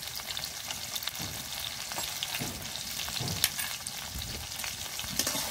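Potatoes frying in oil in a pan with a little salt and turmeric, a loud continuous sizzle close up with occasional stirring scrapes and pops, no voices.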